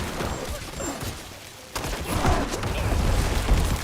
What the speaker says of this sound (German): dann lassen wir ganz viel explodieren